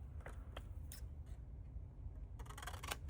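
A large pair of scissors cuts through paper for a craft project, giving quiet crisp snips spaced through the clip and a faster cluster of cutting strokes near the end over faint room hum.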